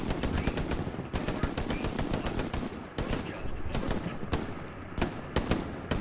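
Rapid machine gun fire rattles in dense, loud bursts during a Utah Beach battle in Hell Let Loose, with a few short pauses between strings of shots and faint voices underneath.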